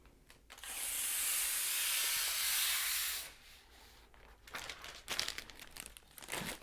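Protective plastic film being peeled off a Thermaltake computer case, a sustained crinkly, hissing tear lasting a few seconds, close and fairly loud, followed by quieter rustling and handling noises.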